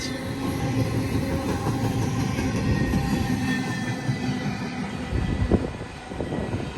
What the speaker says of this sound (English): There goes the short intermodal train with a GEVO with a P5 leading.